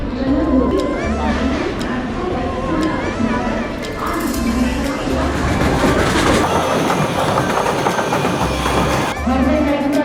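Mumbai local train ride, steady rattling rumble of carriages with repeated clickety-clack of wheels over rail joints, close and continuous, with faint background voices.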